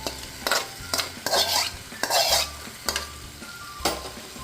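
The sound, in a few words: stirring peanut chutney mixture in a pan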